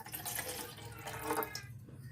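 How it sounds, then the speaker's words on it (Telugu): A glass of water poured into a bowl sitting on a stove, making a steady splashing, trickling pour for about two seconds that thins out toward the end. "స్టవ్ మీద ఒక బౌల్ పెట్టి గ్లాసు నీళ్ళు పోసుకోవాలి."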